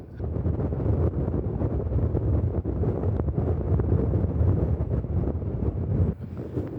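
Steady, blustery wind buffets the microphone at a lighthouse lookout on the Western Australian coast near Ningaloo. The rumble is loud and continuous, with no voices.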